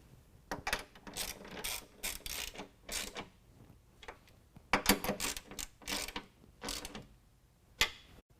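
A hand ratchet clicks in repeated bursts, tightening 13 millimeter nuts on running-board brackets of a 2019 Ram 1500 truck, close and steady with brief pauses.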